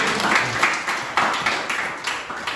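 A classroom of students clapping for a classmate, a burst of dense, fairly close applause that swells and fades in uneven waves over a couple of seconds.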